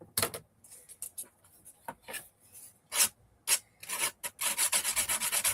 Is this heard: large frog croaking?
no